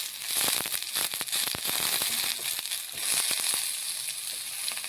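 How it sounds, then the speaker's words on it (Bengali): Carrots and potatoes frying in a pan, a steady bright sizzle running throughout with scattered sharp crackles and pops, close and fairly loud, with no voices. "গাজর আলু আমি একটু আগে ভেজে নেব"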